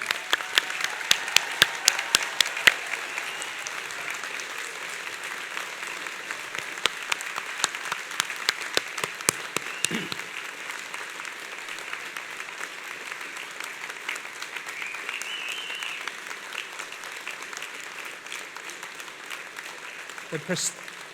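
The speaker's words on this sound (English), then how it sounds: "let's give them one last huge round of applause for congratulations" Graduates at a university degree ceremony in Torquay receive a sustained round of applause from the hall, a steady dense clatter of many hands that stays loud throughout, with occasional brief murmurs underneath.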